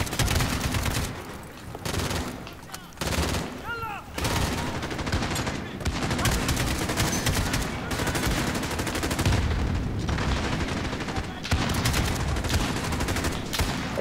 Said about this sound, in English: I keep almost shooting my teammates.